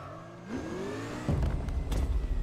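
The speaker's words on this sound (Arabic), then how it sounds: "سيارة حلوة طالعة وسريعة وقوية" A car engine in the racing game Need for Speed Unbound revs up with a rising whine, then surges louder into a throaty, fluctuating roar as it accelerates, close and with no talking.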